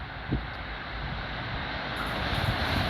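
An EU160 electric locomotive hauling a train passes through Szczecin Zdroje station as a steady, loud broadband rush, with wind buffeting the microphone.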